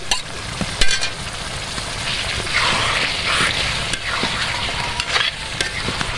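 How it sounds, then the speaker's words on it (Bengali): Beef head skin is sautéed with onions in a pan, making a loud, steady sizzle that swells and fades as a utensil stirs and scrapes through it, with occasional sharp clicks. "দিয়ে দেওয়ার পর এটাও অনেক ভালোভাবে কষিয়ে নিতে হবে।"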